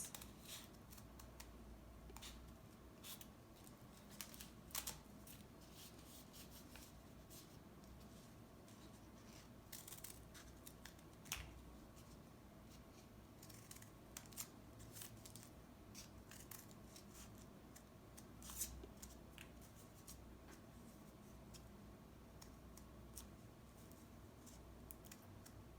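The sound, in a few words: scissors cutting paper snowflake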